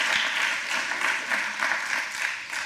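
A church congregation applauds during a sermon, giving steady, dense clapping from many hands that fills the room and carries on without a break.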